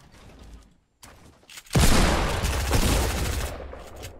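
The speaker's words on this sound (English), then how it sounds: "That shotgun's terrible." Shotgun blasts from the video game Fortnite: a quiet stretch with a brief pause, then a loud, dense burst of gunfire that carries on for a couple of seconds before fading slightly.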